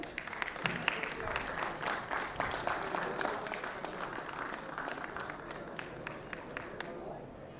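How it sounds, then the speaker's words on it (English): A conference audience at a Generative AI in Data Science session in Mumbai applauds after speakers receive mementos, a steady patter of many hands clapping that fades toward the end, with a voice speaking over it. "A huge round of applause, please."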